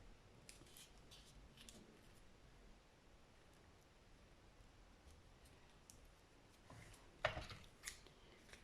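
Scissors snip through paper for a small paper windmill craft, soft crisp cuts coming in short bursts over a quiet background, with a louder rustling cut near the end and no speech.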